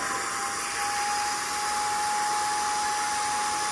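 A TAB portable upholstery spot cleaner runs on carpet, giving a loud, steady motor whine and suction hiss with a constant high tone throughout.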